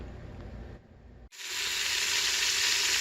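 Beef browning in an Instant Pot electric pressure cooker: a quieter stretch, a brief gap, then a loud, steady sizzle of meat searing that holds close and continuous to the end.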